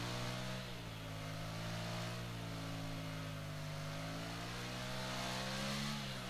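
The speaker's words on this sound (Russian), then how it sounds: "Я вам тут показываю мотоцикл во время заезда" A Ducati Monster 696 motorcycle engine in the Ride 3 racing game holds a steady, loud mid-pitched drone with slight rises and falls in revs throughout, and no voices.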